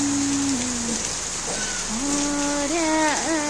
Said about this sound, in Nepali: मुसलधारे पानी